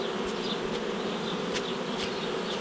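Honey bees hum steadily around a hive at an apiary, a dense continuous buzz with individual insects passing close now and then.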